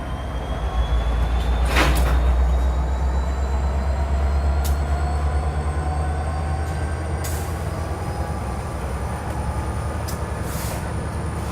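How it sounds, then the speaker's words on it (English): A train passing near a parked 1990 Toyota Hiace 4wd ambulance van, a loud sustained low rumble with clanks and squealing wheel tones throughout, no voices. "Excuse the train."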